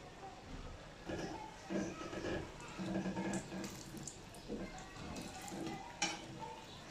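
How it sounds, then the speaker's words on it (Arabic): Cauliflower florets coated in flour and starch frying in hot oil, a steady crackling sizzle with scattered crisp pops that continues throughout at a moderate level, close by. "سامعين القرمشة وهو في الزيت؟"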